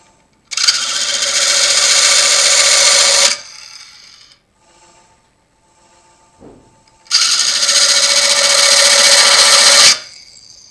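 A texturing tool presses against a sycamore bowl spinning on a wood lathe, giving two loud, rattling buzz-like bursts of a few seconds each separated by a quiet spell with faint knocks; no voices.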